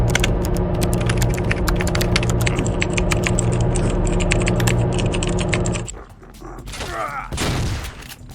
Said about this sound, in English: Scuba Steve here clickety-clacks on his new mechanical keyboard while we defend against waves.